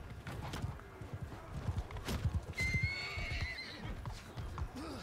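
Horses neigh and gallop in a medieval battle in the video game Mount and Blade 2 Bannerlord, with clip-clopping hooves and a loud whinny over busy combat noise.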